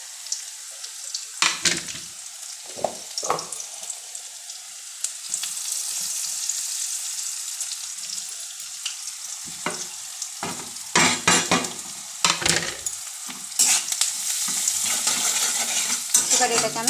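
Jackfruit seeds fry in a pan with salt, turmeric and chili powder, giving a steady sizzle broken by repeated scraping stir strokes and clacks of a utensil, close and fairly loud, with no talking.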